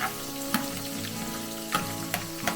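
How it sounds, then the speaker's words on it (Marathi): Onion goes into hot oil with green chili in a pan for kanda poha, a steady close sizzle with a few sharp stirring clicks and scrapes, no talking. "मिरची बघा वेगळा तर थोडासा कलर झाला ना त्यामध्ये आपण कांदा टाकू"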